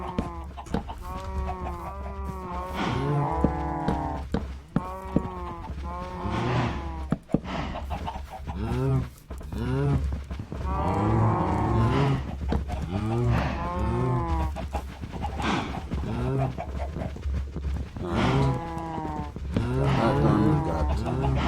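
Many Minecraft cows moo over and over in a farm enclosure, overlapping near and far, with chickens clucking in the background throughout.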